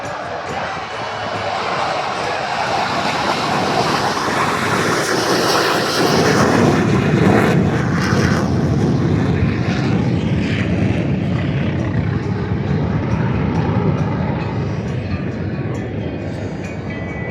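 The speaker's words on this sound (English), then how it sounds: "the A4, the plane that he's going to fly today, is one of his favorites. Let's listen in on takeoff roll" A loud, continuous A-4 jet engine roar on takeoff roll at an airshow builds and holds steady, broadband and close, with faint talk underneath.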